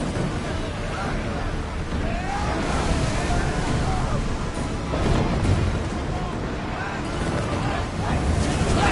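A sailing ship at sea in Assassin's Creed Odyssey, with a steady rushing wash of waves and wind against the hull, loud and continuous.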